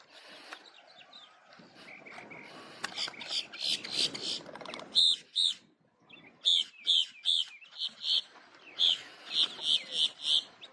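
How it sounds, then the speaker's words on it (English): Wild wetland birds, anhingas among them, calling in Florida's Space Coast wetlands: bursts of harsh, rapid chirps that repeat in quick clusters, close and fairly loud, over low background rumble. "Oh, the noises. Ever wonder how, like, bird vocal boxes are so crazy."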